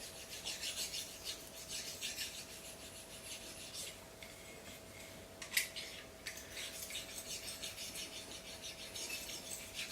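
A slicing knife is honed on a whetstone in steady back-and-forth rasping strokes, close and continuous for the whole stretch, with no talking.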